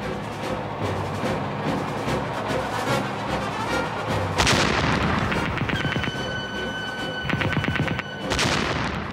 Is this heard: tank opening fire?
yes